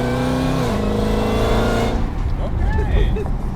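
A Jeep Trackhawk with a swapped-in Dodge Demon engine revs at partial throttle, a loud, close, rising engine roar that climbs, holds, then drops away while voices speak over the tail end.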